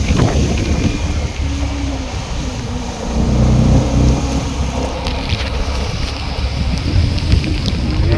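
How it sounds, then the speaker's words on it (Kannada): Heavy rain pours down on travellers caught out on the road, making a steady dense hiss mixed with wind noise that lasts the whole stretch, with no voices. "ಎಷ್ಟೊಂದು ಮಳೆ ನೋಡಿ."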